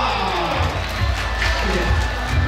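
A crowd at a temple festival concert cheers and claps in a continuous roar of voices and applause.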